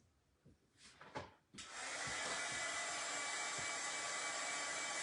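A handheld hair dryer is switched on and runs with a loud, steady blowing roar for most of the clip, after a few quieter handling knocks and clicks at the start.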